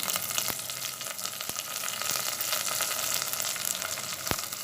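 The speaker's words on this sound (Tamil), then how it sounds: "பூண்டு போட்டுக்கலாம் கொஞ்சம் கருவேப்பிலை" Crushed garlic and curry leaves hit hot oil over golden fried onions, making a continuous bubbling sizzle broken by a few sharp clicks of stirring.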